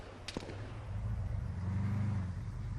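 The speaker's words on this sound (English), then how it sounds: "Use the car to knock the wall down and then shoot him." In the video game Arma 3, a car smashes into a wall: a sharp crashing impact early on, followed by a low rumbling engine drone that builds and holds to the end.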